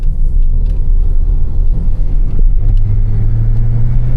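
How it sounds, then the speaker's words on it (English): Buick Regal accelerating hard under turbo boost, a loud, close low engine rumble that swells and builds steadily with a faint rising whine, heard alone without talk. "I hear the turbo."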